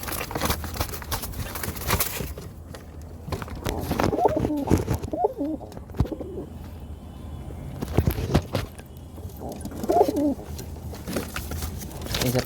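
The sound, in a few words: pigeon cooing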